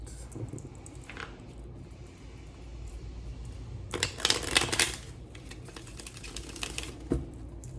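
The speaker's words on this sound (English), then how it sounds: "I'm gonna shuffle one more time." Tarot cards are shuffled in quick riffling bursts, with the loudest flurry in the middle, close by, with no voices.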